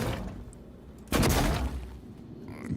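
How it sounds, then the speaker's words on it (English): The glue cannon in Prey fires a single short, thick burst, with quieter game sounds before and after it. "Glue cannon is just as much a traversal item as it is enemy containment item"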